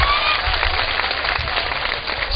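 An audience applauds at a mushaira, Urdu poetry gathering, with steady, dense clapping from a crowd that fills the whole stretch at even loudness.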